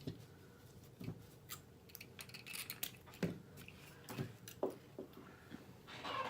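Wire being snipped with scissors or cutters while making a wood bead star ornament, a few faint, sharp clicks and small metallic snaps scattered over a quiet table background.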